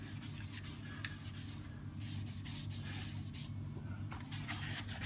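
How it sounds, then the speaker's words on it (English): Multi-spray cleaner is rubbed into the plastic chassis of a Bugaboo Bee stroller, producing a continuous close scrubbing and rubbing sound with a low steady hum underneath. "Spray it on and then rub it in a bit."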